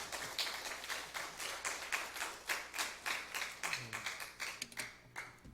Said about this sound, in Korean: 우리 힘차게 환영의 박수 부탁드리겠습니다.